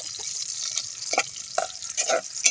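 Ingredients for pakbet sautéing in a pan, a bright airy sizzle with several short scraping stirs and wet clatters at irregular intervals, close and fairly loud.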